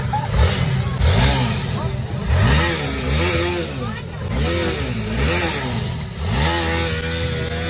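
A motorbike on a Mumbai street revs repeatedly in rising and falling bursts, its engine pitch sweeping up and down several times at close range.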